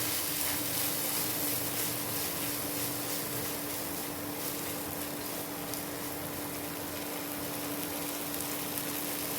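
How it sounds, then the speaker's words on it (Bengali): Spice paste of cumin powder and salt frying in a pan for a fish curry, a steady soft sizzle with a faint constant hum beneath, no talk. "এবার এটাকে একটু ভেজে নিচ্ছি।"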